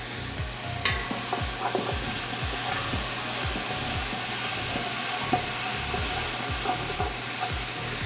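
Vegetables cook steadily in olive oil over a low-to-medium gas flame, giving a continuous soft sizzle with recurring low thumps and faint clinks from stirring, and no one speaking.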